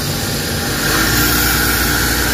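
A Suzuki DA64 engine runs with the air conditioning switched on, a loud steady hum with a constant whine on top, rising slightly in level partway through as the idle climbs.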